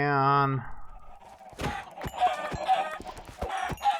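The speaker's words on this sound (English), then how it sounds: "there's chickens everywhere. I just heard chickens." Several chickens clucking in short, repeated bursts amid general commotion, following a brief harmonic tone at the start; the clucks sound fairly close and loud.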